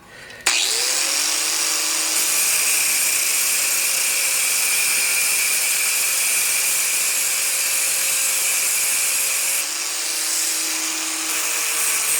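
A power tool runs continuously to cut excess threaded rod off a shovel handle being repaired, giving a loud, steady, high-pitched whine up close that starts abruptly and shifts briefly toward the end.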